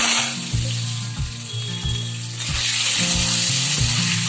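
Eggs frying in oil seasoned with salt and turmeric, giving a steady, close sizzle that swells louder partway through, while low knocking and scraping sounds from the pan repeat in an uneven rhythm underneath.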